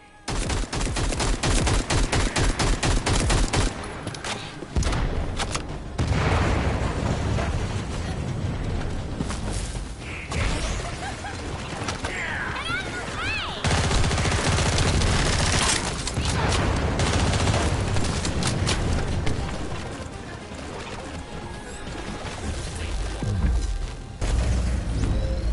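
Heavy gunfire in The First Descendant pours up at a Vulgus aircraft overhead: loud, sustained automatic bursts and booming impacts, broken by a couple of short lulls before the shooting resumes, with faint mechanical noise beneath.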